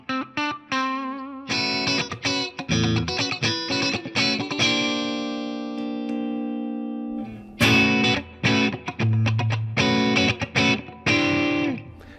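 An Epiphone Les Paul Modern Figured Top Pro electric guitar played through distortion and effects, with strummed chords, ringing sustained notes and choppy riffs running across several different wiring configurations, loud and close.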